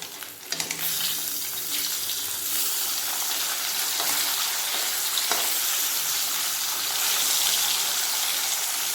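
Bata fish frying in mustard oil in a wok, a dense continuous sizzle with a couple of brief utensil knocks as the fish is turned over.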